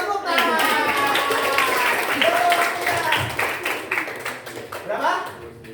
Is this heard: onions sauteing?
no